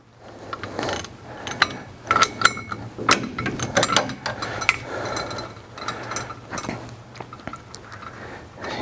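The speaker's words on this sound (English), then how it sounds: "So we're going to start by taking these bolts loose." Bolts are loosened on a John Deere 40 series chain roll, giving a run of close metallic ratchet clicks and clanks, irregular and fairly faint, with tool handling between the bursts.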